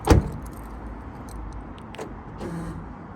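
Nissan X-Trail central door locking actuators engage with a sharp mechanical clunk at the start, followed by a quiet hum and a softer click a couple of seconds later, with no buzzing afterward.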